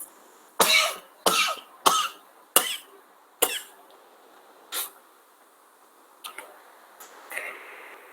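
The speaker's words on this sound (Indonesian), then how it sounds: "Ya, ada batuk-batuk." A person indoors in a room coughs five times in quick succession, loud and close, followed by a few fainter, shorter coughs and throat sounds, with no talking.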